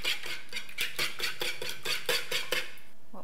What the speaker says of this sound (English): And this will whisk.